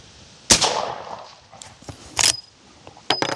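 A Miroku Winchester 1892 lever-action rifle firing 45 Colt +P rounds, three sharp loud reports spaced about a second apart, each followed by a brief decay and small mechanical clicks.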